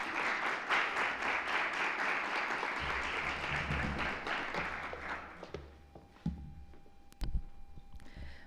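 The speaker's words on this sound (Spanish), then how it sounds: "Un aplauso, por favor." An audience applauds a speaker from Repsol at a university event on sustainable mobility. Steady clapping fades out after about five seconds, followed by a few scattered taps and knocks near the stage.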